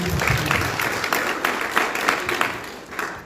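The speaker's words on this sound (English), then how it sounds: "Can we give God a round of applause?" Audience at a live book launch breaks into a steady round of applause, dense overlapping claps filling the room for several seconds at moderate level.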